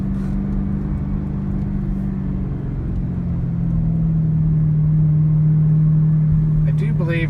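A 2010 Chevrolet Camaro SS/RS pulls in second gear at about 2,500 RPM on hilly roads. The engine gives a steady, muffled in-cabin drone that rises slightly in pitch partway through, under a faint voice.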